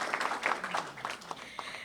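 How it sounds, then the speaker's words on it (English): Audience applause at an agency's 50th-anniversary honoring ceremony, a moderate, steady patter of many hands clapping for about two seconds, heard from within the room at middling volume. "you can clap now if you want to."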